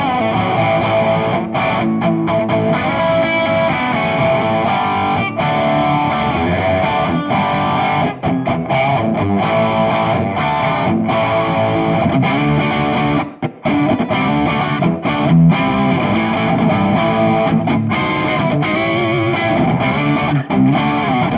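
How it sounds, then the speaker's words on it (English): ESP Iron Cross electric guitar played with full overdrive, a dense, distorted and loud continuous riff with brief stops, switching to the neck pickup partway through, and no voices present. "With a nice full overdrive, it sounds a little like this, and we'll flick to the neck pickup halfway through."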